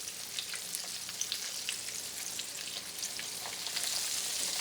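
Country fried steak, about a quarter inch thick, sizzles steadily in oil, a bright continuous crackle with scattered small pops, growing slightly louder toward the end.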